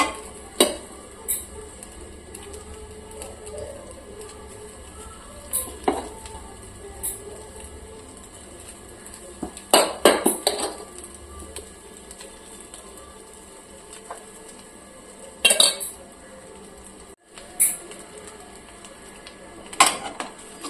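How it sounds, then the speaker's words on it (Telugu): Cooked rice tipped into a pan with cauliflower for fried rice, with intermittent metal spoon clatters and scrapes against the pan over a quiet background and long gaps between bursts. "ఇప్పుడు వచ్చేసి మనం ఇందులో మనము వండి పెట్టుకున్న రైస్ని అయితే ఇందులో వేసేసుకోవాలి"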